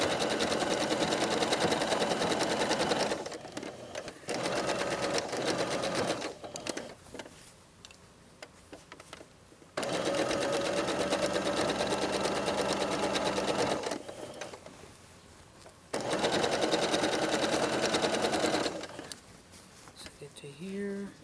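A sewing machine stitches a jacket hem and joins the lining, running in loud steady whirring bursts of a few seconds each, separated by quieter pauses.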